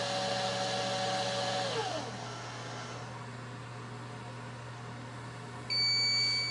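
An electronic powder dispenser runs while it meters out a charge of 5744 powder for 375 H&H loads. Its steady motor whir drops to a quieter hum after about two seconds and ends in a bright electronic beep.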